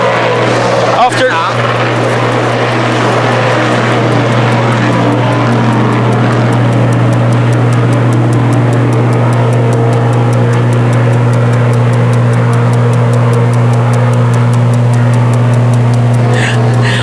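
Race cars roar steadily around an oval racetrack, a continuous loud engine drone with a deep sustained tone, while a commentator talks over it.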